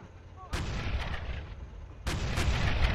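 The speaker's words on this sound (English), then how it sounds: "I hear artillery over here." Off-map artillery fires in the Men of War: Assault Squad battle game, set at a Pacific airfield in 1944. Two heavy booms come from a distance about a second and a half apart, each rolling on over steady battle ambience.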